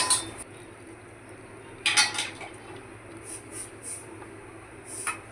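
Metal utensils clink against a tumbler while roasted semolina is measured after cooking for kesari. A sharp clink opens the clip, a louder cluster of clinks and scrapes follows about two seconds in, and another comes near the end, with quiet room hiss between.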